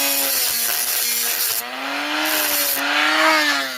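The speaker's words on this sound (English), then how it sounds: "you just cut enough into the crimp ring and not into the" A rotary cutting tool grinds into a copper PEX crimp ring, giving a steady high whine with a shifting pitch and a harsh rasping edge, close and loud with no talking.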